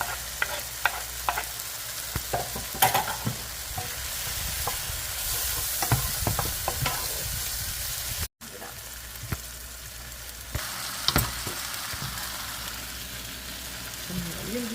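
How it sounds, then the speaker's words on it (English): Onions, tomatoes and chives sizzle in a pot while a spoon stirs them, a steady frying hiss broken by scraping and clinks at irregular intervals, close and fairly loud, with a brief cut midway. "now we're going to stir this up together"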